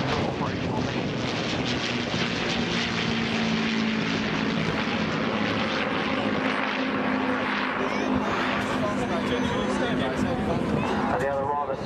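Avro Lancaster bomber propeller engines roar at an air show, a loud, steady multi-engine drone sustained throughout, with a voice talking over it.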